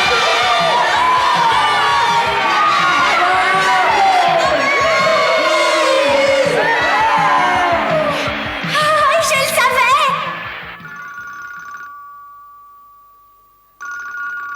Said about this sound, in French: Venez applaudir les Mr.